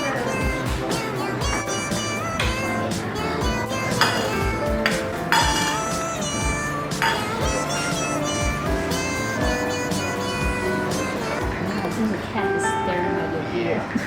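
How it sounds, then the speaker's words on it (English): In a Taipei cat cafe, cats meow repeatedly amid clinking dishes and a busy room with people talking throughout. "We're hanging out in a cafe full of cats."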